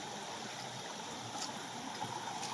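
Clear stream water flows through a forest, heard as a faint, steady, even rush of running water with no voices.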